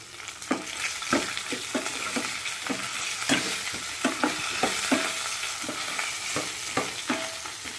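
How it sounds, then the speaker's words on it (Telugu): Cashews, mustard seeds and curry leaves fry in hot oil in a pan for a tempering, a steady close sizzle broken by frequent stirring clicks and crackles, with no talk. "జీడిపప్పు ఆవాలు కరివేపాకు అన్నీ వేసి"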